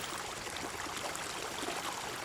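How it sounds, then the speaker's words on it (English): Water running steadily through Roman city fountains at Timgad, a continuous soft wash and trickle heard alone at low level. "Water runs everywhere."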